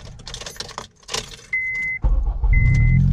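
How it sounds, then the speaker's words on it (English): A manual car is started with the key: keys jangle and clatter, then a steady electronic tone sounds and the engine turns over into a loud, sustained rumble, close up with no voices. "Start the car."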